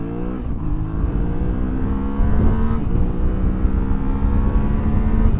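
A Yamaha Tenere motorcycle accelerates hard on a freeway from 0 to 100, its engine loud and close, pitch climbing steadily through the gears with strong wind rush and no voices.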